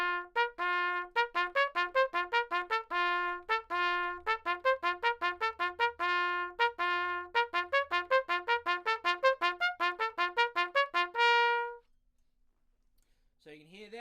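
A brass instrument plays a fast slurred passage from Grand Russian Fantasia, a rapid run of clear repeated notes with regular jumps, ending on a held note, then silence and a brief faint sound.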